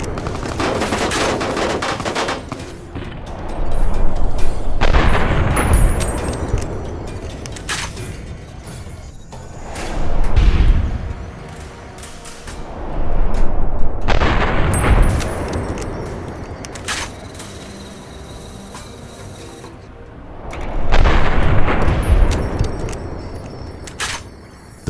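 A gunfight with raiders in the video game Fallout: New Vegas, with loud bursts of gunfire recurring every few seconds over a steady backdrop of shooting and rattling mechanisms.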